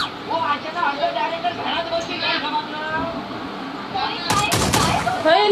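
Bursts of gunfire in the mobile game PUBG Lite, a shotgun among the weapons, with a heavy volley near the end amid talking players.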